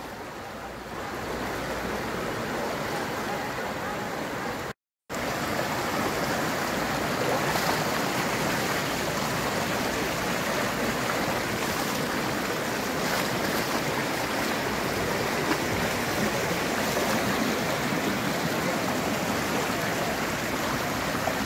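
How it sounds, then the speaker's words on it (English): Fast-flowing canal water in a town flood in Phuket, a steady broadband rush of surging floodwater that stays loud and continuous with one brief dropout, no talking. "you can see the canal water and it's flowing fast"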